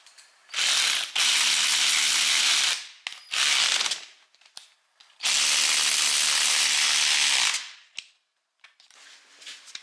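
A ratchet wrench works on rusty differential bolts on a Subaru WRX STI rear axle, loud bursts of rapid clicking in several long runs separated by pauses, close up, with a few faint knocks between.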